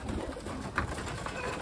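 Tumbler pigeons in a loft give soft, low cooing over a murmur of background noise, close by and brief, with no talk.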